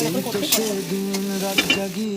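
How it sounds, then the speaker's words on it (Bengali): Onion and chicken fry in plenty of oil while being stirred, with a continuous sizzle and occasional scraping under a steady tonal hum. "পেঁয়াজটা একটু ভাজা ভাজা হয়ে যাবে"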